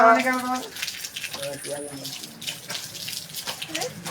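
Water gushing hard from a tap onto a dog during a rescue dog treatment, a steady splashing rush with brief overlapping voices and tonal sounds near the start.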